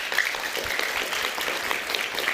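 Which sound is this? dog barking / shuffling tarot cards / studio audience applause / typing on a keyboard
studio audience applause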